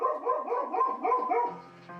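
Buddy, a pet dog, barking in a short run of about five rhythmic yapping barks indoors, fairly close, ending in a lower whine.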